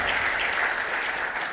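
Brief burst of audience clapping at an industry summit, dense and even, carrying on without a break.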